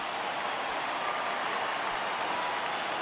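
A home crowd in the MLB The Show 2019 baseball video game cheers in a steady, dense roar that holds at an even level throughout.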